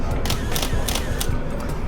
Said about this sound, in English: the shutter is actually very nice in terms of pressing it, and the sound of it